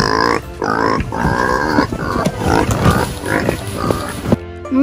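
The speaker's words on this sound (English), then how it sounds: "Pigs." Pigs grunting up close, a run of loud, rough snorting grunts that come one after another at uneven spacing.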